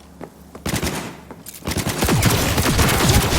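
Turret gunfire in Cyberpunk 2077: a few scattered shots, then dense, rapid automatic bursts that build into a loud, sustained fusillade.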